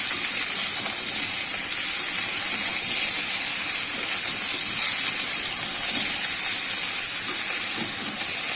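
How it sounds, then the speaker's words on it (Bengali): Continuous loud hiss of ridge gourd frying in hot oil, steady and close throughout, with no talking. "ঝিঙেটাও কিন্তু আমি একটু ভেজে নেবো"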